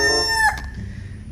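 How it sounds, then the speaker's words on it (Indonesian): A rooster crows once, a near, moderately loud call that ends abruptly partway through, leaving faint low background noise with no talking. "ini ada ayam berkokok"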